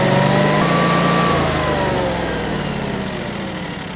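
Generac Guardian 11 kW standby generator engine starting up and settling into a steady running drone, loud and close, with no talk.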